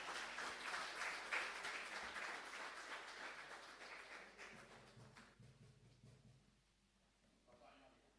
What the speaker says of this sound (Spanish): Fuerte aplauso ahí para Matías.